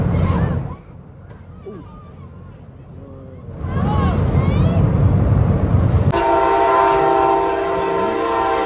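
A train rumbles past with clattering rail noise, then a long, loud horn blast sounds close by and holds steady to the end.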